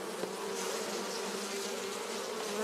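A dense, steady buzz of many honeybees at a hive, close by, a continuous droning hum without pauses.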